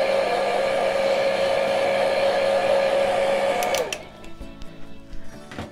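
A hair dryer blows steadily and loudly over fresh acrylic paint on a leaf painting, a constant whining drone that cuts off near the end, leaving faint handling noises.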